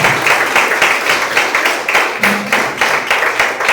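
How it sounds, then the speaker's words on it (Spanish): A church congregation claps for the Lord after a Bible reading, with dense, steady applause and rhythmic pulses of clapping that carry on throughout without any talk. "denle un aplauso al Señor por esa palabra"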